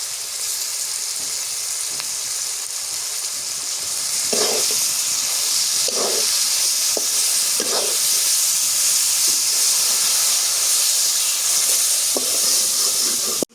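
Mustard paste frying in hot oil for a large hilsa fish curry, giving a loud, steady sizzling hiss close up, with a few brief stirring clinks in the middle.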